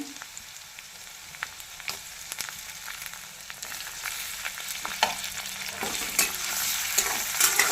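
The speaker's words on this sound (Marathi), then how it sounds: "आता मी ह्याच्यात टोमॅटो घालते" Tomatoes drop into a hot kadhai of sizzling garlic and are stirred, a spoon scraping and clinking against the pan over a steady frying hiss that grows louder toward the end.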